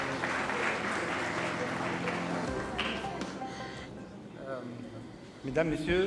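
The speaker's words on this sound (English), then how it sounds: "Bravo encore une fois, Mabrouk, on peut les applaudir" An audience at an official opening ceremony applauds award recipients, a dense patter of clapping for a few seconds that thins out, with a voice speaking near the end.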